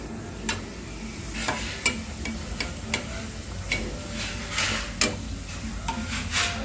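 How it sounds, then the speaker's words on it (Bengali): Pea-filled kachori frying in hot oil, a continuous close sizzle and bubble broken by sharp, irregular ticks and clicks of a utensil against the pan, with no speech. "তারপর আমি আস্তে আস্তে কচুরিটাকে ভেজে নিচ্ছি।"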